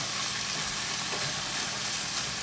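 Peppers frying in a hot pan while being turned, a steady, dense sizzle holding at an even level throughout with faint stirring underneath.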